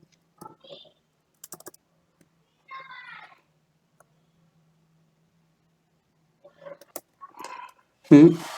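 Scattered bursts of typing on a computer keyboard, close and fairly quiet, with short clusters of key clicks separated by long silent gaps and a louder click near the end.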